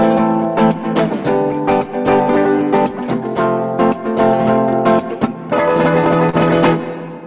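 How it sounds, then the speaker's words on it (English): Flamenco-style rasgueado strumming on a guitar, played by the right hand as a rapid, percussive rhythm: loud bursts of fanned strokes that come close and fast, with brief gaps between them. "That's a rasgueado that kind of comes from Spain and from flamenco traditions"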